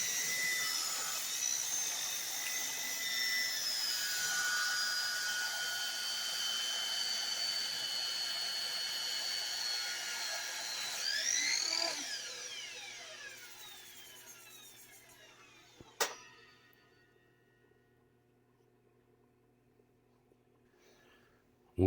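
A miter saw set at a 22.5-degree angle slices through wood in a steady, loud whine with whirring cuts, winding down near the end into quiet with a sharp click.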